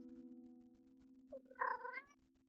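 A cat gives a single drawn-out meow, fairly faint, over a steady low electrical hum.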